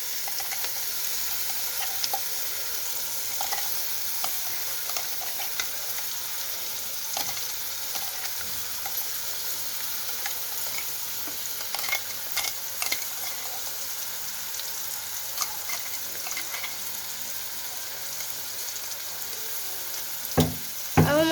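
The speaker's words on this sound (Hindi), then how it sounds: "अब हम मसाले को अच्छी तरह से भूनेंगे, तब तक भूनेंगे जब तक इस मसाले तेल ना छोड़ दे।" Freshly ground spice paste fries in oil for an okra curry, giving a long even sizzle with occasional soft stirring scrapes and a burst of louder clatter near the end.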